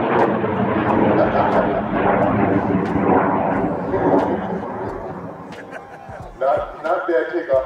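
A 180-pound, 16-foot rocket launches with a loud roaring rumble that gradually fades. People talk and cheer over the roar.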